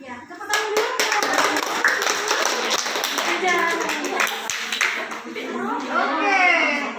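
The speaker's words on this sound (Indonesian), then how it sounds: "Ya, tepuk tangan dulu" A classroom group, children among them, claps hands together in a lively burst, with excited young voices chattering and calling out over the clapping throughout.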